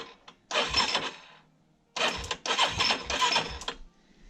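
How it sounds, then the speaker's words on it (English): Raptor 350 ATV starter cranking the engine with the spark plug boot unplugged, two whirring bursts, one short and one longer broken into pulses, close up with no talking. "I'm gonna turn my starter over just a little bit."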